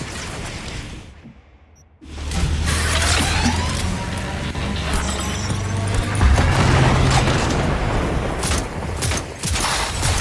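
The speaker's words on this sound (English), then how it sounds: "Using a shotgun!" A shotgun in Cyberpunk 2077 goes off amid a chaotic firefight, its loud booming blasts layered over dense crackling gunfire and mechanical clatter after a short lull, continuous and close.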